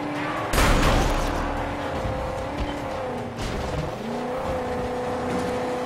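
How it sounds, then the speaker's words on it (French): A heavily overloaded car labors along in the Mad Max video game, its engine droning steadily with tire squeals and skids, plus a sharp loud burst near the start. "Oh, elle avance pas la bagnole tellement elle est chargée quoi."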